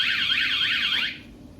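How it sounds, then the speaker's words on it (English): A VanGuardian dual alarm fitted to a van's side door sounds a loud warbling electronic siren, rising and falling rapidly for about a second before cutting off into quiet background hum. "door tampering instantly sends out a powerful alarm to let thieves know that the van's protected"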